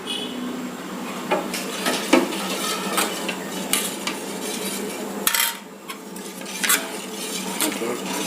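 A spoon stirring and scraping through dosa batter in a metal vessel, with repeated close clinks and scrapes over a faint sizzle from a hot pan.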